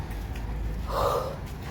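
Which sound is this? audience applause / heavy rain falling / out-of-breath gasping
out-of-breath gasping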